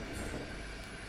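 A train runs steadily in a video game, a continuous, dense rumble of rolling carriage noise at moderate level with no voices.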